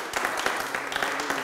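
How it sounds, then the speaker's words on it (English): Small audience giving a round of applause after team keynote presentations: a short burst of close, dense clapping from a modest group, lively and uneven, with no talk over it. "You both really deserve to give yourselves a round of applause"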